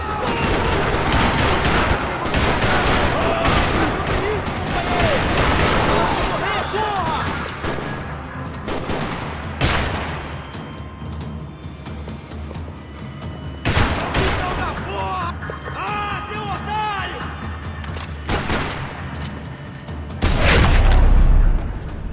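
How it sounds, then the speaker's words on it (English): Dense bursts of gunfire in Max Payne 3 crackle and boom in a parking lot, with rapid volleys and explosions over a busy soundtrack, ending in a loud heavy blast. "Another parking lot rattling with gunfire."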